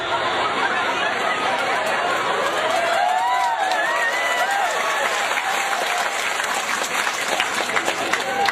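Sustained audience applause at an Islamic religious lecture, a dense crowd of hands clapping steadily throughout, with scattered voices, chatter and light laughter mixed in.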